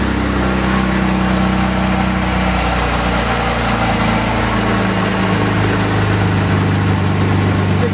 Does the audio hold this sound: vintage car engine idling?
yes